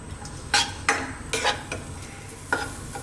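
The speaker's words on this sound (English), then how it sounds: "So we're going to fry or dry fry the onions for about 3 to 4 minutes." Onions dry frying in a pan without oil for Ethiopian scrambled eggs, with a few sharp scraping stirs over a faint, quiet sizzle.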